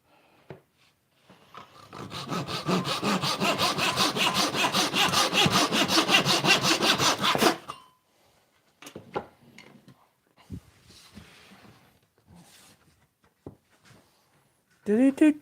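A handsaw trims the end of a wooden brace for a barn door, sustained rhythmic back-and-forth strokes for several seconds, then a few knocks and faint handling sounds close by.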